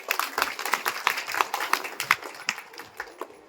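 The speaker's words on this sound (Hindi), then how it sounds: "तालियां बजाओ" Audience clapping at a spiritual discourse gathering, a run of uneven, fairly close claps with a slightly irregular rhythm and no speech over it.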